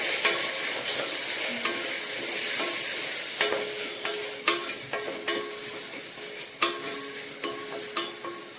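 Chickpeas coated with chilli powder, turmeric and coriander frying in a pan, a constant sizzle under repeated sharp scrapes and taps of a spoon stirring, growing more frequent toward the end.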